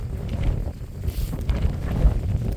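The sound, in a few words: wind on Kinder North Edge hike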